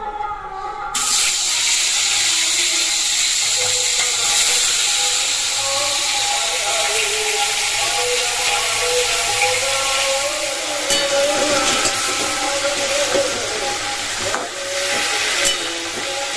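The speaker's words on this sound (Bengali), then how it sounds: "তো তেল গরম হয়ে গেছে, তো মাছের মাথাটাকে ভেজে নিই।" Fish head frying in hot oil: after a brief quiet start, a loud, steady broadband sizzle and hiss runs almost the whole time, with a voice faintly audible underneath.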